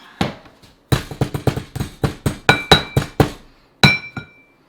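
Material from a hydraulic gold pit trip is whacked in a metal pan, giving about a dozen sharp ringing metallic strikes in an irregular burst, close and loud with short decays and brief pauses.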